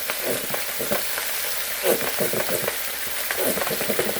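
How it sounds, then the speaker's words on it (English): Shrimp and zucchini stir-fry in hoisin sauce sizzling hard in a hot pan, with steady crackle and repeated scraping stir strokes, close and continuous, no talking. "Then we'll add a little light soy sauce, about a teaspoon. And we're going to stir fry."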